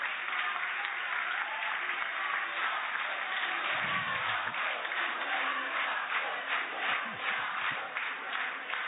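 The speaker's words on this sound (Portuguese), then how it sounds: "pedir aí uma salva de palmas aí para todos que fazem esse trabalho." Sustained applause from an audience at an anti-racist popular education event, dense even clapping throughout with a brief low thump and shuffling underneath.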